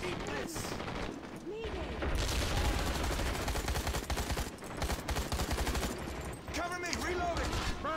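Sustained rapid automatic gunfire from the shooter game Hazard Ops, loud and close, with dense bursts running almost continuously and brief pauses.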